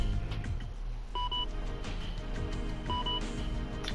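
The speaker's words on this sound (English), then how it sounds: "Your alarm has been going off." A computer alarm in The Silver Case video game gives two short electronic beeps about two seconds apart, set over busy background game sound and music.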